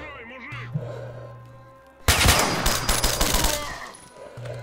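Gunfire in the video game STALKER: Shadow of Chernobyl, a sudden loud burst of rapid automatic shots with ringing echoes that lasts about two seconds, then tapers off over a steady low in-game hum.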